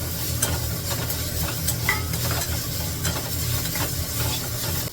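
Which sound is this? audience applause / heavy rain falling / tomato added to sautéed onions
tomato added to sautéed onions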